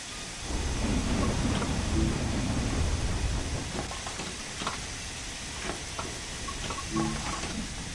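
A steam locomotive in Train Sim World 4 on the West Cornwall line, engine put into reverse, gives off a steady loud steam hiss and rumble with intermittent chuffs and clanks.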